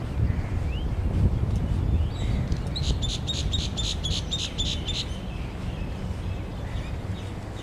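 A bird at a lake in Sharjah, UAE, gives a quick series of bright, repeated whistled notes in the middle, over steady outdoor wind and low rumble.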